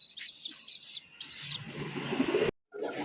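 Iranian high flyer pigeon chicks chirp in thin, high peeping bursts close by, with a few rustling sounds and brief gaps between calls.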